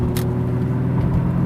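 A Jaguar XJS V12 coupe engine hums steadily with a low rumble, revving up smoothly as it accelerates, loud and close with no voices.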